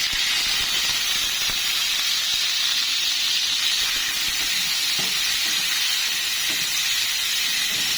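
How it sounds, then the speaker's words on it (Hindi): Onions sizzle and hiss steadily in hot oil in a pan, a close, continuous frying sound that holds at an even level throughout with no talking. "तो पैन में हमने थोड़ा सा ऑयल और इसमें ऐड कर लिया है। ये अब प्याज इसमें ऐड कर देते हैं।"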